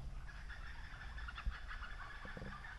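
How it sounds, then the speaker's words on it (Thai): Wild red junglefowl give faint, distant clucking calls in a Thai forest, soft and scattered over quiet background noise. "เสียงไก่ป่า"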